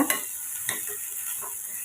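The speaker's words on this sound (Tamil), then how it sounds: "கேபேஜ் எடுத்துருக்கேன் கேப்சிகம் எடுத்துருக்கேன் சேர்த்துக்கோங்க கேரட் உப்பு தேவைக்கு சேர்த்துட்டு இப்போ நல்லா ரெண்டு நிமிஷம் நம்ம வதக்கி விட்டு எடுத்துக்கோங்க" Cabbage, capsicum and carrot with salt sautéed for vermicelli, a few quick stirring scrapes over a soft continuous sizzle, close and fairly quiet.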